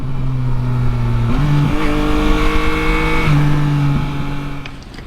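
Yamaha Tracer 9 GT motorcycle with a triple engine, revving steadily and loudly up close, its pitch stepping up and down through several held rev levels before easing off near the end.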